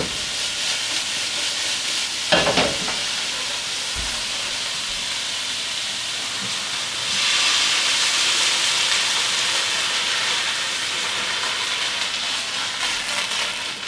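Broccoli sizzling and steaming in a hot pan on a stove, a steady broad hiss that swells louder partway through, with a few faint clinks and knocks.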